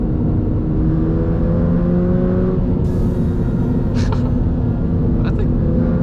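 A 2022 second-generation Subaru BRZ engine revs hard under acceleration, a loud sustained drone with rising tones, heard from inside the car as a voice talks over it.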